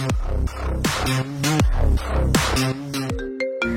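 A musical phone ringtone plays loudly, a repeating bright melody that cycles several times before ending on a few sustained tones.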